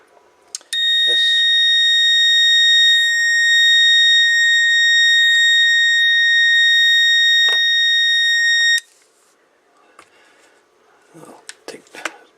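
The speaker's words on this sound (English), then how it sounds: "I'll take the buzzer off it for now." An electronic buzzer on a timer module for a crossband repeater project sounds one loud, continuous tone for about eight seconds, then cuts off, followed by faint handling clicks.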